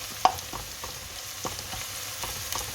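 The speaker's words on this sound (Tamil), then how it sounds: "இஞ்சியும் உள்ளியும் வதங்கு" Ginger and garlic sauté in a pan for tomato rice, a soft steady sizzle broken by light clicks of a spoon stirring, close and without talk.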